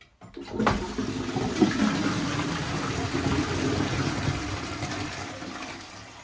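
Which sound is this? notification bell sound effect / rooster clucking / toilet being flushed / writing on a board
toilet being flushed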